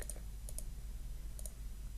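A computer mouse gives a few soft, close clicks in small pairs, some spaced apart, over a low background hum.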